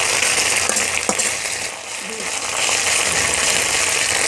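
Chopped onion and ginger frying in a pan for a flattened-rice pulao recipe: steady, bright sizzling and crackling with a brief stir partway through, continuous and fairly loud.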